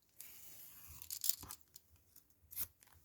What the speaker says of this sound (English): And this doesn't like cutting wet paper.